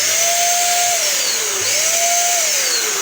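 A Ginour 600W electric paint sprayer running with water, a loud steady motor whine with a pitch that sags and recovers twice, close up and with no talking over it.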